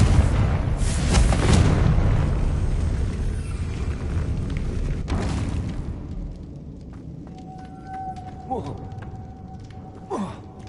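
A Confringo fire spell explodes in Hogwarts Legacy: a loud booming blast with crackling that trails off over several seconds, followed by quieter scattered game sounds.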